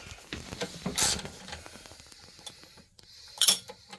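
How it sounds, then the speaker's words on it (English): Metal clicks and ratcheting from a socket wrench as bolts are backed out of a Hydrow rowing machine reel, close and fairly quiet, with a louder burst of rattling near the start and another near the end. "We'll finish taking these bolts out."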